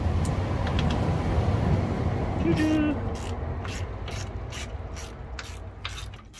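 A ratchet clicks in quick repeated bursts as a rear subframe bolt is worked loose on a barn-find Kawasaki GPZ900R motorcycle, close by, over a low background hum.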